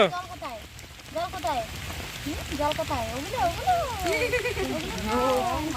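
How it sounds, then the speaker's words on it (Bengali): Rain falls steadily outdoors as a soft, constant patter, while people talk over it throughout. "এদিকে বৃষ্টিও চলে আসছে দেখো"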